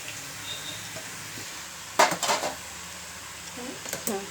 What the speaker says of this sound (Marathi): आता याच्यावर मी झाकण ठेवणार आहे